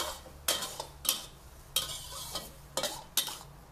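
Vegan minced pork and glass noodles are stir-fried in oil with a splash of light soy sauce. Six sharp spatula scrapes against the pan come in uneven bursts over a soft sizzle.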